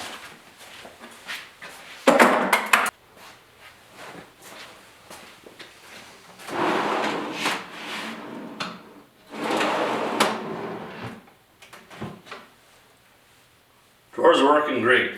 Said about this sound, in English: Drawers are working great.